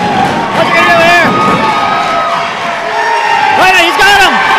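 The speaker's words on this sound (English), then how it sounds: "The crowd is going wild for Daniel Exotic." A wrestling crowd roars and whoops loudly and without a break, a dense wall of cheering with shouted voices rising and falling throughout.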